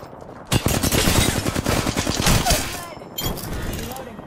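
Rapid video-game gunfire in a battle royale match erupts suddenly, with dense overlapping shots rattling loudly for a few seconds before trailing off into scattered fainter reports.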